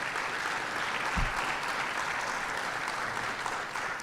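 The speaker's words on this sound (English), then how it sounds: "He can have his own applause" Audience at a mayor's breakfast event applauding the new board chair, a soft steady wash of clapping from a room full of people, somewhat distant and even throughout.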